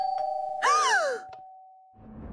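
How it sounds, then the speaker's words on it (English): Doorbell in the video game Minecraft, a single sustained ding-dong tone over a steady hum, followed by a sliding, wailing effect and then quiet rustling. "Mikey, that was the doorbell!"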